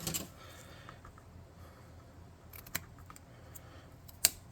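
A small piece snipped off a plastic Heroclix miniature: two sharp, quiet cutting clicks, one midway and one near the end, over a faint room hush.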